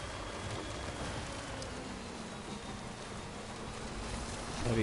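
Heavy rain in the video game Death Stranding, a steady, even hiss of rainfall pattering on the terrain, constant and moderately quiet, with no talking.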